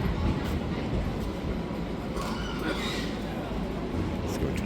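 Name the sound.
Istanbul tram passing in the street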